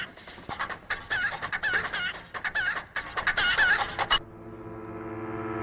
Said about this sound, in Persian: مرغ و خروس تو خونه است؟ نه آقا جون، از تو کوچه میاد.